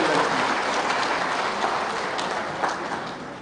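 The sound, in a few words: rally crowd applauding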